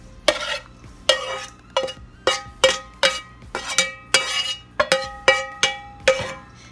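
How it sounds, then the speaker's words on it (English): Browned meat being scooped from a pan into a bowl for lasagna, a series of sharp metallic clinks and scrapes of a utensil against cookware, about a dozen distinct strikes at an uneven rhythm, close and fairly loud with no talking. "my meat is nice and brown, so I'm gonna transfer to this bowl"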